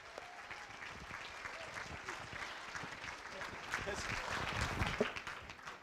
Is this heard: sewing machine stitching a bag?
no